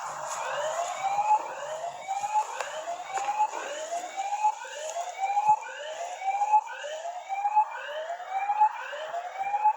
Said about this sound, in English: if anything walks between the white monument and the gray monument to the right, you will get an alarm that goes off